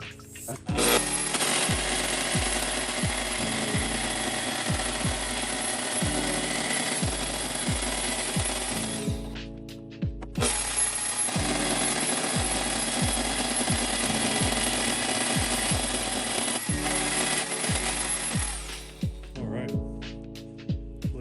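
A power tool grinds and cuts through the fender of a 2020 Ford Ranger flatbed in two long, loud, continuous passes, with rapid rhythmic chatter, a short pause between them and a brief tail after.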